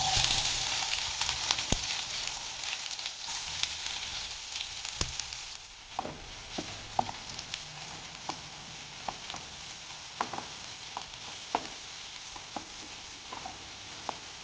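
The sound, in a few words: onions frying in a pan for anda keema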